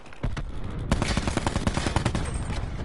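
Rapid automatic gunfire from the video game Black Ops 4, dense bursts of shots rattling almost continuously for about three seconds, loud and close, with no talking over it.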